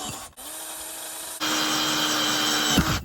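A power drill whirs steadily, stops briefly, then bores again at a louder, higher pitch, drilling holes in a dirt bike sprocket, close by with no talking.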